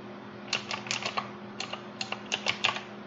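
Loud clacking keystrokes on a mechanical keyboard, irregular bursts of several quick presses with short pauses, close and alone over a low steady hum.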